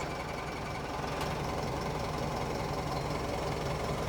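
A running car engine with a steady rough rumble and knocking vibration heard close up, while the clutch pedal is pressed and released, with the noise holding constant throughout.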